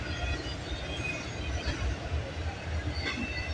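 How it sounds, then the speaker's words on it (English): A CN freight train hauling a BNSF locomotive rolls past close by, producing a steady, dense rumble of wheels and railcars that stays loud for the whole stretch. "At least we got ourselves a BNSF unit."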